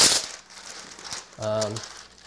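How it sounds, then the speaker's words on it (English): Parchment paper being laid out over a kitchen work surface gives a burst of crinkling at the start, with a short voiced sound in the middle and more rustling at the end. "And throw down some parchment paper."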